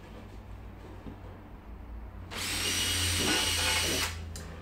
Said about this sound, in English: And then we're gonna drill through it.